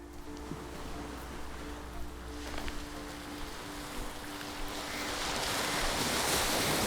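Ocean waves wash onto the shore of Gan island in the Maldives, a steady broadband roar of surf with wind buffeting the microphone, swelling louder toward the end.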